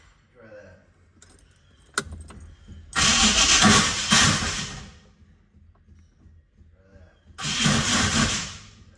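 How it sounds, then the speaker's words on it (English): A 1965 Corvette coupe with a 396 big block, found in a barn, is cranked by a failing starter in two loud, close, grinding bursts. Keys jingle and a voice talks briefly beforehand. "That starter's killed."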